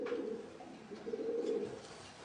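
Pigeons in a race pigeon loft give soft, low, throaty coos in a steady repeating rhythm, fairly close and alone, with no voices.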